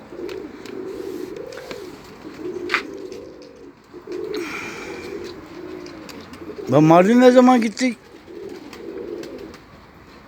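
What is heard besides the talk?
bird, likely a pigeon, cooing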